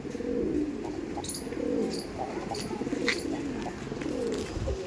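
Pigeons in a loft coo steadily and close by, layered low throaty calls rolling on continuously with a few faint higher chirps above.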